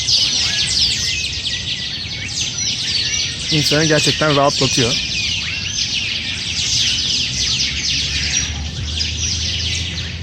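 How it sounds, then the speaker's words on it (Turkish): Dense, constant high chirping of many birds fills the background in a park in Peru while someone speaks briefly in the middle. "kuş sesi"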